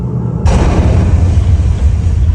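A simulated dynamite blast at the Britannia Mine Museum erupts suddenly after a brief quiet moment, one loud, deep boom followed by a sustained heavy rumble that fills the rest of the moment.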